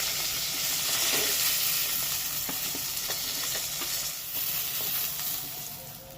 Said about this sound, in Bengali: এই মাছগুলো তুলে পরের মাছগুলো আবার ভেজে নিচ্ছি